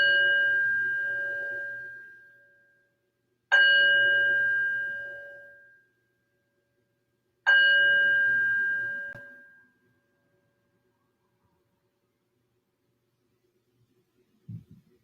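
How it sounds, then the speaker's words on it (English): A singing bowl or meditation bell rung three times at the start of a yoga practice, each strike ringing out clearly and decaying slowly before the next, followed by quiet. "I'm going to go ahead and ring the bell to invite us in."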